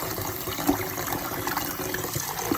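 Pork chops are rinsed in a bowl of water with vinegar and lemon juice, a steady close sloshing and trickling wash with small splashes, no voices.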